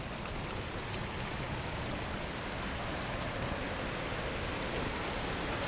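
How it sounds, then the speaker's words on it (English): A mountain creek floods across a hiking trail, its water rushing in a steady, broadband wash that stays loud and unbroken throughout with no voices over it. "A creek has invaded our trail."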